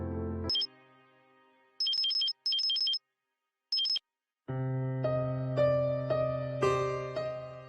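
A mobile phone rings with an incoming call: short repeated electronic beeps in bursts with gaps, then a louder sustained melodic ringtone tune playing nearby.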